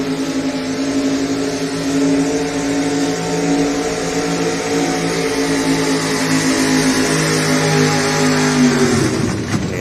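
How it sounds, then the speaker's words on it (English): A 1987 Ford Ranger pulling truck roars at a truck and tractor pull, a loud sustained high-revving engine drone held steady for several seconds, then dropping off abruptly at the end of the run. "Applying that horsepower to the ground here tonight, and looks like kind of clunked out on him there at the end of the run"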